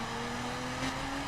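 A Maserati MC12 in the racing game The Crew drones with a steady engine note at fairly constant revs, a continuous buzzing hum heard alone without talk.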